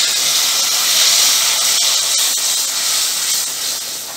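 Tomato paste sizzles loudly in a hot pan for mushroom curry, a dense, bright hiss that holds steady throughout with light crackles, and no voices are heard.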